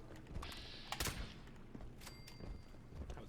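Gunfire through a wall in Fallout 76 comes as a few sharp, faint shots with clattering mechanical rattles, quiet and slightly distant-sounding.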